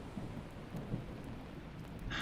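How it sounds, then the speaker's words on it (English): Steady rain falls with soft rumbles of thunder rolling beneath it, a continuous hiss at moderate level and a sharper crack near the end. "kind of raining, right?"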